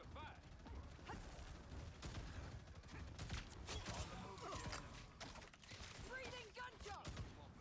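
Rapid video-game gunfire from Honkai: Star Rail rattles in dense mechanical bursts throughout, mixed with clanks and effects under game voices talking.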